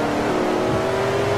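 Car engine in the racing game Forza Horizon 2, a loud continuous mid-pitched roar rising as it accelerates hard through rainy traffic, with no talk.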